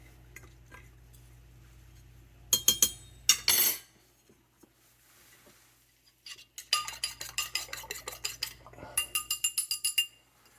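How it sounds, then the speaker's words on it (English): Shrimp mixture being stirred in a bowl: a spoon clinks and scrapes against the dish in short bursts, then a quick rhythmic run of a dozen or so clinks, close and fairly quiet. "Stir that around so that it's mixed in."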